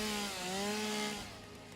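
Chainsaw cutting barnacles in the video game Satisfactory: a steady buzzing engine drone whose pitch wavers slightly as it works, fairly loud at first and then easing off toward the end, with no talking.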